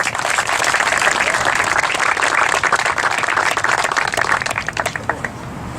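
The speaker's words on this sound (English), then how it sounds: "Can you raise your hand and let's give them a clap?" An audience at a school groundbreaking ceremony claps for several seconds, steady dense applause that holds at full strength and then tapers off slightly toward the end.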